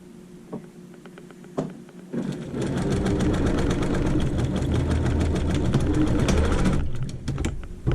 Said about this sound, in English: I'll just sew them together.